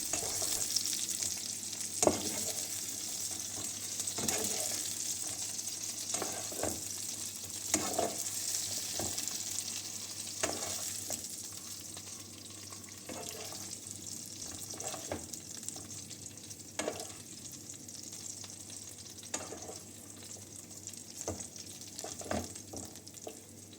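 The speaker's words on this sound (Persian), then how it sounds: "در همون تاب و روغن پیاز نگینی خرد شده رو اضافه میکنیم و تفت میدیم" Finely diced onion sautés in oil in a frying pan with a faint, steady sizzle, while sharp spatula scrapes and taps against the pan recur throughout.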